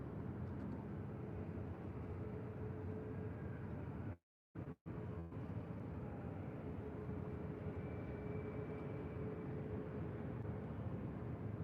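Boeing 737-800 airliner rolling for takeoff on runway 24 left at LAX, a steady broad jet roar that stays loud and continuous throughout, with a brief dropout partway.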